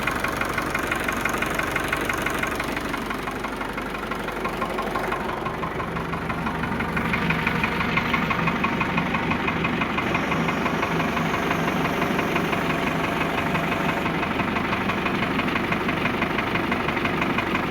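A Sonalika DI 60 RX tractor with about 4500 hours on it and fresh engine oil idles steadily nearby, its diesel knock chugging evenly without a break.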